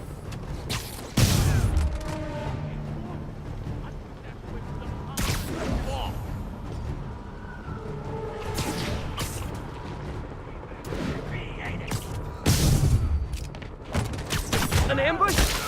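Sniper rifle shots fired by escaped convicts in the Spider-Man PS4 video game ring out as a few sharp, loud cracks spaced seconds apart over a busy game soundscape.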